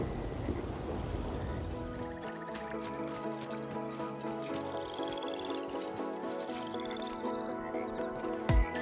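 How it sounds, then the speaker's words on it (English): Steady rain and low rumbling thunder from a video game storm over a swamp campsite with a campfire at night, a continuous wash of noise layered with game music tones, with no talking. "The storm raged on for the rest of the night"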